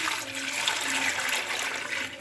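Homemade orange and tangerine peel juice poured into a smooth starch mixture while making liquid soap. A steady, close, splashy liquid stream runs without a break for about two seconds.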